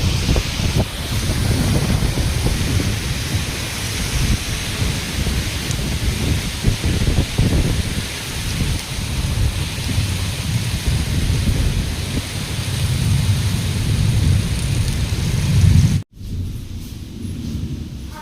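A village storm of heavy rain and thunder makes a loud, continuous roar with a deep rumble and gusty buffeting for about sixteen seconds, then cuts abruptly to a quieter hush; no one talks.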